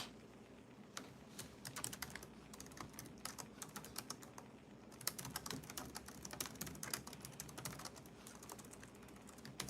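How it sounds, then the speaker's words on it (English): Steady clatter of fingers typing on a computer keyboard during a live stream, close and continuous for about ten seconds, with irregular bursts of keystrokes and no talk. "And I'm typing something in the chat."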